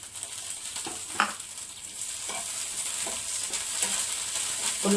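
Green chillies fry in hot oil in a pan for tomato and raw mango chutney, a steady close sizzle with occasional soft stirring scrapes and pops.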